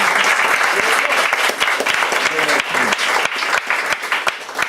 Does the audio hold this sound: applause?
yes